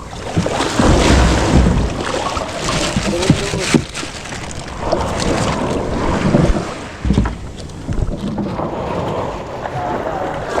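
A small outrigger boat rides choppy waves near shore, with heavy wind buffeting and surging water wash throughout, while people talk and call out intermittently over the din.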